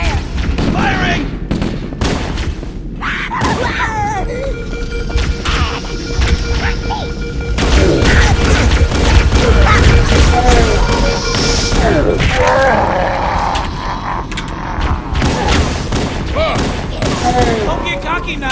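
Heavy gunfire in a Halo: Combat Evolved firefight against Covenant forces, dense bursts of shots and impacts with explosions, loud and continuous, with voices shouting over the battle.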